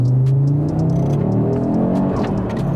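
Carbon-bodied modified Audi RS3 switched into sports mode, its engine humming and revving steadily with a loud, close, continuous low drone and rising whir throughout, no voices.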